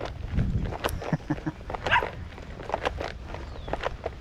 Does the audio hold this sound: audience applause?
no